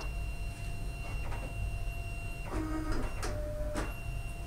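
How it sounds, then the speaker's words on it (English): A Fargo DTC4000 ID card printer feeds a cleaning card through its rollers, producing a continuous motor whine with several clicks and mechanical clunks, fairly close and steady over background hum. "It's going to feed in the card."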